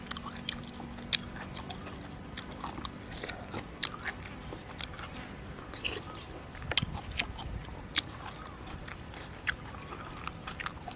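Close, crunchy chewing and biting on a Thai dish of raw beef hip and liver eaten with fresh vegetables and a bitter jaew dip, with steady wet crunches and squishy mouth sounds throughout, no talking.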